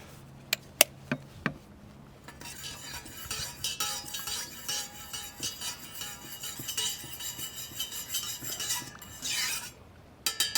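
A drink is stirred in a pot or mug while cooking outdoors, giving a steady run of light metallic clinks and scrapes from a utensil, preceded by a few sharp ticks.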